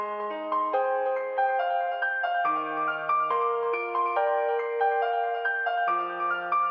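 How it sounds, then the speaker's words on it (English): A phone ringtone plays a bright synthesized Kingdom Hearts melody, a steady run of stepped notes over low sustained tones, clear and continuous with no voices. "I chose Kingdom Hearts as my next ringtone"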